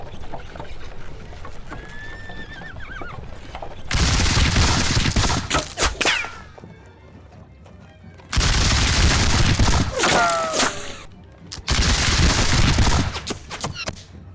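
Musket volleys from a War of the Austrian Succession battle game crash out in three loud, dense bursts of crackling fire, each lasting a couple of seconds, separated by quieter stretches of battlefield ambience.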